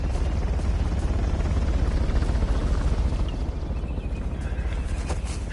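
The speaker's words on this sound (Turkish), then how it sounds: "Helikopter de bizi ateş edebilir." Steady loud rotor chop and engine roar of a helicopter in the video game Uncharted, a dense rhythmic whir continuing throughout with no speech.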